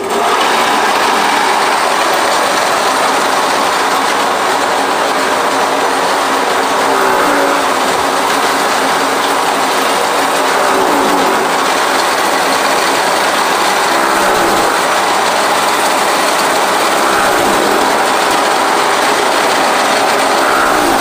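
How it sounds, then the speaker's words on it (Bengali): A loud motorised fodder cutter runs continuously, chopping grass mixed with straw into animal feed on a farm, a dense mechanical roar and rattle with no pauses. "তো এগুলো আমরা এখন মেশিন দিয়ে কাটবো, চুরাবো, চুরায় খাদ্য তৈরি করবো"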